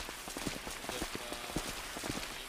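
Rain falling in the GTA video game, a quiet steady patter of drops on hard surfaces with a sprinkling of slightly louder individual taps in an irregular rhythm, and no talk.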